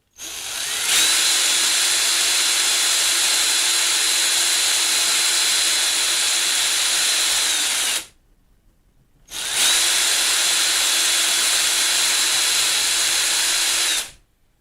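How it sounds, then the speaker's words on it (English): A power drill runs steadily with a loud, high whine for about seven seconds, stops briefly, then whirs again for another five seconds. "go ahead and drill the holes"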